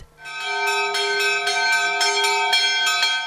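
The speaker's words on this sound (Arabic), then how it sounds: "اليوم تدق أجراس الكنيسة" Church bells ring loudly and continuously for Easter, rapid repeated strikes blending into a rich, sustained metallic peal.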